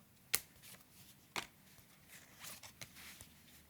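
Playing cards are flicked and slid against each other while someone searches a deck, with a couple of sharp snaps and softer riffling, close and quiet, no talking.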